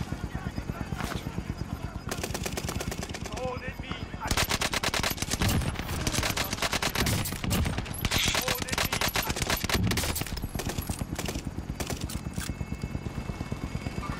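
Rapid, continuous automatic gunfire in the video game Warzone on Fortune's Keep, with sustained bursts throughout, heavier in the middle section, under a steady mechanical drone.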